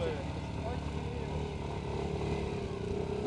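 A racing motorcycle engine droning steadily on a hill climb at moderate distance, a sustained tone with little throttle rise.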